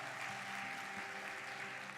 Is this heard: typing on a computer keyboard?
no